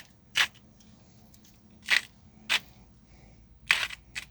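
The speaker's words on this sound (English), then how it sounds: "I've got my salt here that I'm going to grind in. Just a few grinds." Salt ground into a tandoori marinade with a hand salt grinder, four or five short crunchy grinding bursts separated by pauses, close and fairly quiet.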